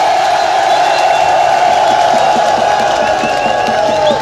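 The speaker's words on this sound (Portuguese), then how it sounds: "uma forte salva de palmas!" Loud crowd roaring and cheering at a closing presidential campaign rally in Murrupula, Mozambique, a dense sustained wall of voices with whoops and clapping mixed in.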